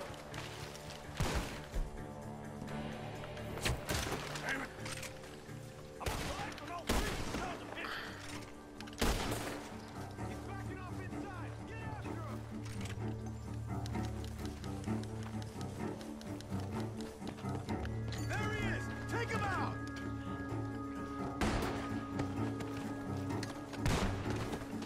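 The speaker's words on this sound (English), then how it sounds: "The gunshots are coming from that barn." Gunfire erupts from a barn in the video game Red Dead Redemption 2, with sharp, loud shots and bursts scattered irregularly across a long stretch over a low rumbling in-game background, and no talk.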